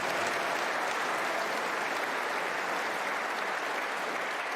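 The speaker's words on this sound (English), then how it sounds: "big roar from this capacity crowd" A capacity snooker crowd at the Masters applauds steadily, with dense, even clapping heard from a distance and no talk over it.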